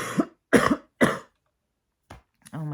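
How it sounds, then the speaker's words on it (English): A person has a coughing fit: three harsh coughs in quick succession, a pause, then a shorter cough and a rough, voiced throat-clearing sound, all close and distinct. "I'm going to start having a coughing fit."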